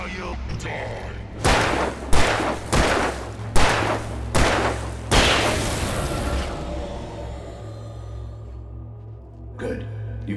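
Gunfire from a handgun in the video game Alan Wake, a series of loud, evenly spaced booming shots followed by a long fading reverberation and then one more faint shot.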